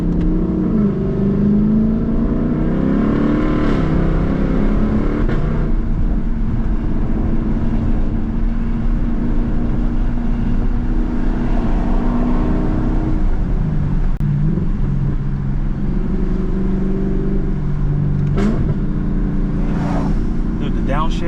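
A Lexus sports car engine droning and revving with windows down, downshifts at around 3,000 RPM bringing exhaust pops and burbles over a steady loud cabin rumble, with people talking throughout.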